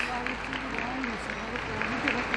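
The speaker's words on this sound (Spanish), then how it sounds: "Y aplauso espontáneo." Spontaneous applause breaks out in a plaza crowd as a bishop's coffin is carried out in a funeral procession, moderate scattered clapping at a distance under continuous speech.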